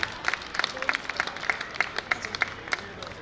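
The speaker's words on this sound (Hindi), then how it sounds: "तालियों के साथ स्वागत इनका।" An audience claps to welcome a guest onto a stage at a conclave event, with light, fairly distinct claps in a loose rhythm at moderate level over a quiet room background.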